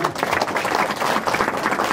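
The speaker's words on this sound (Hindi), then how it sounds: "तालियों के साथ स्वागत करें।" A short burst of dense clapping from a gathering welcoming guests at a religious discourse event, loud and continuous for two seconds.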